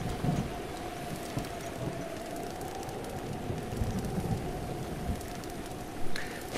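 Steady rain falls in the Breath of the Wild game, a constant hiss of drops with a low rumble beneath it and no talking.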